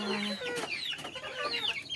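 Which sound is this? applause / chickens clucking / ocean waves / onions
chickens clucking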